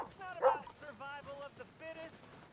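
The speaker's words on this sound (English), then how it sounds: "What's up with this dog following me?" A video game dog yips and whimpers in short, high bursts, close by, with a few pitched barks mixed in against a quiet background.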